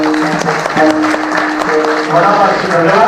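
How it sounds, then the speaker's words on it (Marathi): Steady crowd applause fills the hall at a devotional bhajan gathering for the Shree Kelambika Devi anniversary celebration in Manche, Devgad, continuing throughout with voices and tonal sounds mixed in. "एका जोरदार नावाने टाळ्या"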